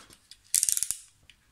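An old pre-war utility knife gives a quick, close burst of about eight sharp ratcheting clicks, with a couple of lighter ticks before and after in a quiet room.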